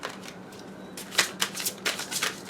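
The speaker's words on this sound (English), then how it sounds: "I'm so used to shuffling how I normally shuffle that I keep wanting to do it" A deck of tarot cards is shuffled by hand in quick riffling bursts, close and fairly quiet, with soft papery flicks repeating over a low room hum.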